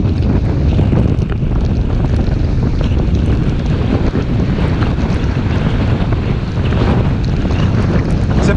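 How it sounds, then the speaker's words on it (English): Strong wind buffets the microphone in a loud, constant rumble, with a hint of surf beneath it, during a stormy autumn bike ride on the Norfolk coast. "It's a bit windy."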